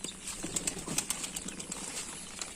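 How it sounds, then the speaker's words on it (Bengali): Pigeons flutter down from a rooftop at a farm after rain, their wings making a series of quick, soft flapping bursts at a moderate distance, with no talk. "কবুতর আমার মোটামুটি ছাদ থেকে নাইমে আসছে"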